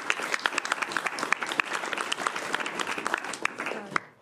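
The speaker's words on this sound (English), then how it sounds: "let's launch the academic year with a round of applause" A lecture audience applauds to open the academic year, brisk individual claps close by over a steady crowd of clapping, tapering off and ending abruptly near the finish.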